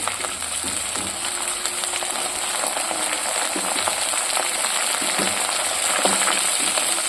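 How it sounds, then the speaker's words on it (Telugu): Curry leaves and greens fry in a pan with a steady, dense sizzle that carries on alone throughout, with faint stirring scrapes now and then. "ఇది కొంచెం వేగాలి. వేగిన తర్వాతకి మనం పచ్చిమిర్చి వేసేసుకోవాలి."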